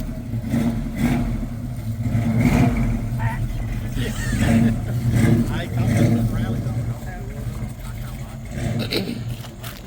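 A 1969 Camaro Z28 with a Muncie four-speed rumbles nearby, its engine swelling in repeated revs over a steady low idle, with voices talking over it.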